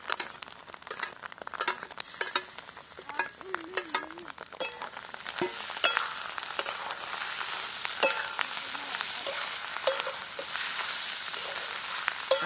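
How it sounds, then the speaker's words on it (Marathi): Fried onion and tomato go into a pan of egg and green chilli chutney, giving a soft, continuous sizzle with scattered clinks and scrapes of a utensil, fairly quiet, with brief talk in the background. "कांदा आणि तांबाट तळून घेतले तर ते टाकून घेऊ आपण"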